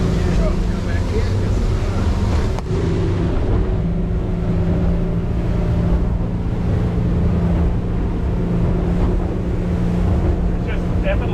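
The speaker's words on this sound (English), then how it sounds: "This is a very quiet boat." A Yellowfin YF70 extended cabin boat's motor hums low, quiet and steady beneath wind buffeting the microphone, with water rushing along the hull.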